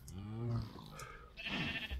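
Sheep bleat in the TerraFirmaCraft game, a wavering nasal cry up close, followed by a second rougher bleat or grunt, with no talking over them.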